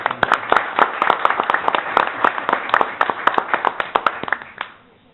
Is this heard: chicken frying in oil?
no